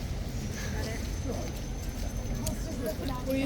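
Hooves of a King's Guard horse shift and clop on the ground at Horse Guards, faint and close, under a steady outdoor crowd murmur with people talking nearby.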